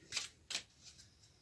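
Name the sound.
oracle cards being shuffled and drawn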